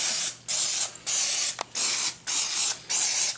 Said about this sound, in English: I use the olive oil non-stick spray. And I'm going to spray every cup.